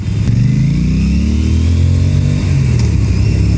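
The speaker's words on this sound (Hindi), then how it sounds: "The sound of this bike, parallel twin 270-degree crank, beautiful." An Aprilia Tuono 457 motorcycle with a parallel-twin, 270-degree-crank engine runs loud and close, its throbbing note rising steadily as it revs and accelerates, heard alone without talking.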